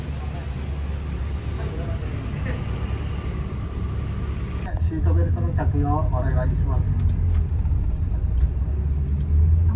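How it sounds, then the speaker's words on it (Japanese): Airport bus bound for Aomori Airport pulling away from Aomori Station, a steady low engine rumble that swells partway through, heard from inside under an onboard announcement. "青森空港行きのバスは11番乗り場から発車をします"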